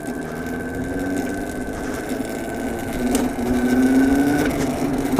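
Electric cafe racer motorcycle motor whines at riding speed with a steady tonal hum over road and wind noise, the pitch shifting and the drone dropping away briefly as the motor cuts out.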